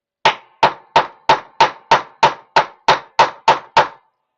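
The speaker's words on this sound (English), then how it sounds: "But what I want to do is just hammer these just a little bit." Copper wire Celtic cross earrings are flattened with a hammer: twelve crisp, evenly spaced taps in a quick steady rhythm, close and loud, with no voices.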